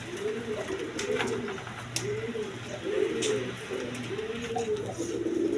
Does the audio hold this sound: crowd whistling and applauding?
no